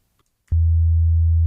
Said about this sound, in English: now when you press a note on the keyboard, you immediately play both synthesizers